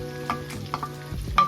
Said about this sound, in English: So now I'm gonna add my bacon back in.